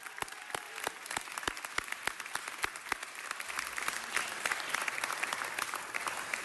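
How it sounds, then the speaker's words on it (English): Applause at a city council meeting, starting with a few distinct, evenly spaced claps that build into a fuller, steady round from the audience, heard from some distance at a moderate level. "Let's give her another round of applause."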